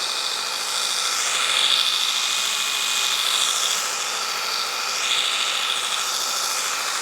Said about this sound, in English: Luckily for us, we have the belt sander. So we're just going to make us some smaller headed screws.